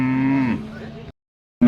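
A large, heavy cow moos at a cattle market, one long, loud, close low call that fades out, then falls silent before another call begins at the very end.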